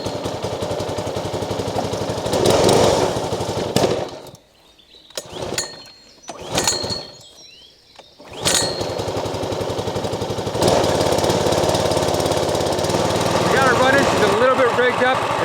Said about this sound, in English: It's a lawnmower engine on top of that log splitter